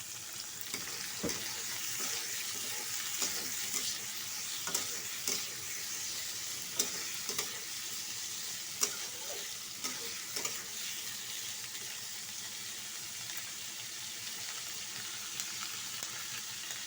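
Onions frying in hot oil with cinnamon for Bengali egg tarka dal, a low, steady sizzle near the pan broken by repeated light spatula taps and scrapes as they are stirred, with no talk.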